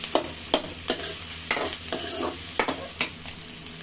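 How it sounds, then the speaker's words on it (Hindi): Onions frying and being stirred in a pan while a tomato and potato curry is cooked, giving a steady sizzle broken by regular scraping stirs about every half second, close up with no voices. "अब हमारे प्याज भुन रहे हैं।"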